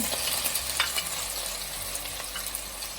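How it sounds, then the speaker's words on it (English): Hot oil sizzles steadily with quick, scattered pops and crackles of mustard seeds bursting in a pan for Sri Lankan chicken curry, close and continuous. "You should hear the mustard seeds pop"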